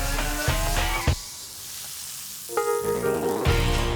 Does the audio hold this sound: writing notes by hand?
no